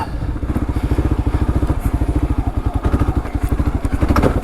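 A Gen 3 Kawasaki KLR engine lugs at low revs, making a rapid, even chain of heavy thumping pulses with some clatter, close by.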